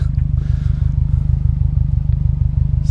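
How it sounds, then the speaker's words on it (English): A deep, throbbing Subaru WRX/STI exhaust idling steadily up close, with a rapid pulsing low rumble and no talking. "we're out here checking out the exhaust."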